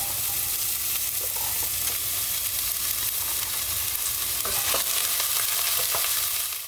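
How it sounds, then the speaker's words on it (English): Onions, potatoes and other vegetables sizzle steadily in hot oil in a pan on medium-high heat, with a constant loud crackle and occasional scraping stirs. "We're gonna add some oil to it. And then we'll add our veggies so we can start softening them up."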